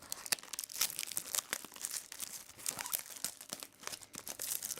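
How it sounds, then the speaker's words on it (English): The plastic wrapper on a Return to Ravnica Magic booster box crinkles and tears as it is opened, a close, busy rustling and crackling that runs continuously for several seconds. "So we're going to open up this box, take a look at what we have inside"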